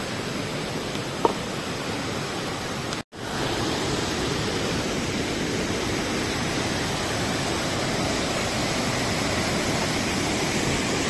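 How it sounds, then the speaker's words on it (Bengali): A waterfall stream on the Rudranath mountain trek rushes beneath a bridge in a loud, steady, broadband roar, with one brief dropout near the start. "ঝর্ণা স্রোত"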